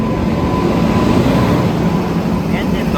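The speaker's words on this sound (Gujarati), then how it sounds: "મિત્રો આપણી ટ્રેન આવે છે, જોઈ લો." The Okha–Ernakulam train pulls into a dark station at night with a loud, steady, close rumble of wheels and carriages that fills the whole stretch.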